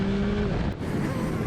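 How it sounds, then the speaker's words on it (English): A Yamaha Tracer 9 GT 2021 motorcycle pulls hard in third gear from about 30 mph, its engine note loud and close with a rising tone, partly buried in wind roar, and a brief dip midway. "Let's just pull the throttle, 3rd gear, 30 miles an hour, and off we go."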